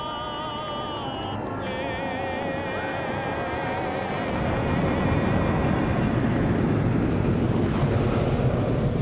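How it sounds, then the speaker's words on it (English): A massive airplane roars overhead at a motor racing event, a loud, steady engine drone with whining tones that swells and grows louder in the second half. "And that is a massive airplane."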